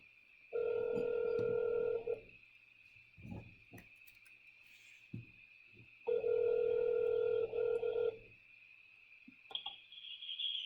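A telephone call rings out on the line, two long loud buzzing rings separated by a pause, over a steady high tone and faint clicks.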